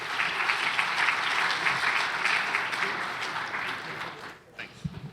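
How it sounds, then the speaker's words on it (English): An audience at a business conference in Vancouver applauds steadily as a speaker comes up, with a sustained wash of clapping that fades over the last second, and a voice speaks briefly at the end. "Give him a round of applause here."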